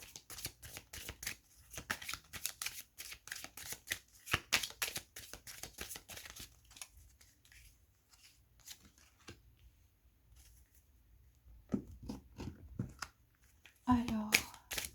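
Tarot cards are shuffled in quick, close riffling bursts, followed by a quieter stretch and then a few more card flicks and handling sounds near the end.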